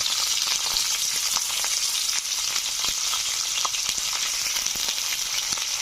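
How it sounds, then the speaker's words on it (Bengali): Potatoes fry in hot oil in a village kitchen with a steady, bright sizzle and crackle and scattered small pops and stirring sounds. No voices can be heard over it. "তেল গরম হয়ে গেছে, আলু ভেজে নিচ্ছি"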